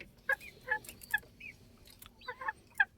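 A broody hen, one of a clutch-sitting backyard flock, gives a series of short, sharp, piercing calls spaced irregularly over a few seconds, fairly close and standing out over a low, rumbling background.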